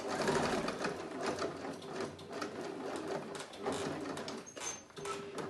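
A sewing machine stitches slowly through a stuffed denim cat with pins left in, a steady close whirring hum with rapid needle clatter running throughout without pause.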